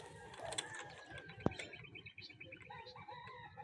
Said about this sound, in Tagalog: maraming ibon guys